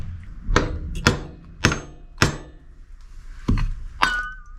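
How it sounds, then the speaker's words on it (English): Several loud metallic hammer blows strike a stuck Honda Cub motorbike starter motor one after another at irregular intervals, each with a sharp clang and brief ringing tail. "It's pretty well stuck on there, so time to hammer it"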